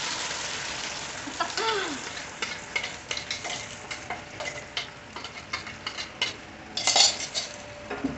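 A spoon scrapes and clinks around a pan as spice paste cooks with fried onions over a low flame, irregular metallic taps and scrapes over a soft, steady sizzle, close by, with a brief faint voice near the start.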